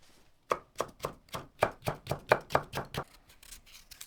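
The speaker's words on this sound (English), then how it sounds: "Cut into julienne, 1 carrot," A knife chops a carrot into julienne on a cutting board, about a dozen crisp, evenly spaced strikes in a quick steady rhythm, close and clear with no talking.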